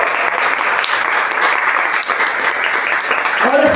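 A church congregation claps steadily in sustained applause, loud and close, with a voice beginning to speak right at the end.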